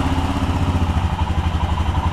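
A Royal Enfield Himalayan motorcycle engine idles close and loud, a steady throbbing rumble with a fast even pulse and no voices.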